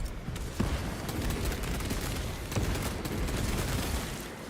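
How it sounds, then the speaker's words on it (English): A frag grenade in the Space Marine video game launches and bursts amid a dense, continuous roar of battle gunfire and rumbling blasts, loud and unbroken throughout. "Launching frag grenade!"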